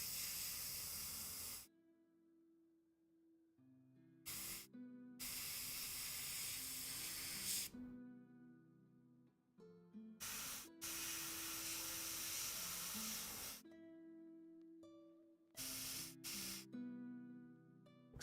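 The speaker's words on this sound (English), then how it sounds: "Hold the airbrush farther away and at more of a steep angle." Airbrush spraying paint onto a demonic-themed Warhammer 40k Knight base, close steady hissing bursts of varying length separated by silent pauses, with a low hum running under some passages.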